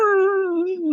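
A dog howls in one long, steady, tonal wail with gently wavering pitch, loud and close, filling the whole second.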